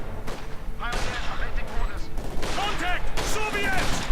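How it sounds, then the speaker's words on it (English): Gunfire crackles through a real-time strategy battle between Grenadiers and Soviet conscript squads, with a sniper shot among repeated bursts and distant booms; someone commentates over the continuous din. "Sniper gets a kill."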